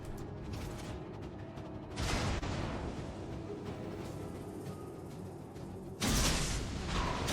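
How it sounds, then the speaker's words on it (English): Cruiser Cleveland's guns firing armor-piercing shells in a World of Warships naval battle, two heavy booms a few seconds apart rising out of a steady, dense rumble of mechanical noise. "that Cleveland is over there taking a couple of shots at me with his AP"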